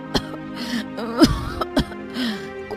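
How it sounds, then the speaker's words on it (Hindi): Three short, harsh cartoon coughs break out at uneven intervals over a soft, sustained musical backdrop. "ये कैसी खांसी है?"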